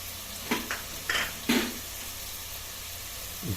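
Chicken curry masala with spices sautés in a pan, a low steady sizzle under a few short scrapes of a spoon, close by and fairly quiet, with no talk.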